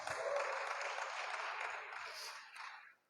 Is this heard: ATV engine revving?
no